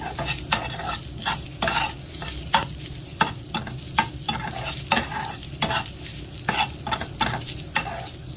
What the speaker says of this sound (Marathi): आपला कांदा भाजून झालेला आहे बघा. एवढा असा ब्राउनिश गोल्डनिश करायचं आहे.